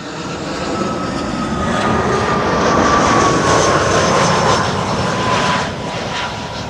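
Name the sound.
Airbus A320 jet landing on Kaagbaan runway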